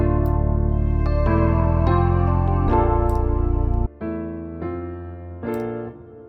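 Low piano chords with a deep bass line underneath, sustained notes shifting every second or so, then a quieter stretch of separate chords near the end.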